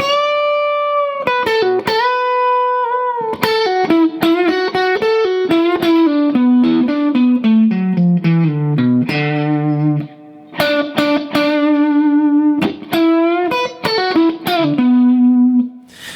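Electric guitar with distortion and effects plays the second lick of a guitar solo slowly, a run of sustained notes with a long descending bend, a short gap, then bent notes again, loud and alone.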